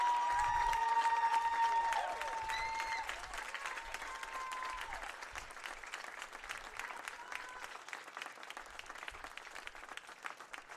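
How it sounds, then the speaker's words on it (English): Spectators clap for the runner-up Florida Southern Moccasins at the 2019 Sunshine State Conference women's lacrosse tournament, applause that is louder at first and then settles into steady, moderate clapping, with a tonal sound heard briefly at the start. "we would like to give a round of applause"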